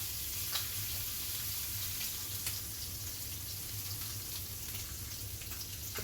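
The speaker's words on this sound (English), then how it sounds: "So that tallow definitely is going to help these get a really nice sear on them." Lamb loin chops searing in beef tallow in a pan give a steady, soft, close sizzle with faint pops and occasional light ticks above a low, constant hum, with no talking.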